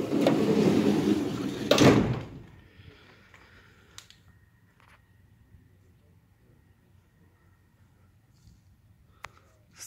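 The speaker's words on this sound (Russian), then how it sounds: "Двери закрываются хорошо." A door of a 2015 Mercedes Sprinter 316 van slides and shuts with a loud rumbling slide ending in a solid thump, followed by quiet interior ambience and a few faint clicks.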